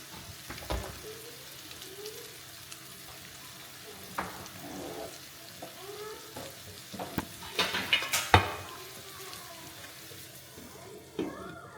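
Eggs sizzle quietly in a breakfast skillet, a low steady frying hiss with occasional clinks and scrapes of stirring, faint and close.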